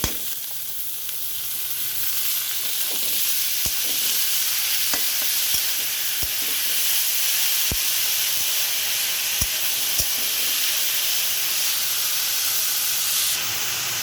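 Radish greens are tossed into a hot pan of fried onions and chillies, giving a loud, constant sizzling hiss dotted with sharp spatula clicks against the pan.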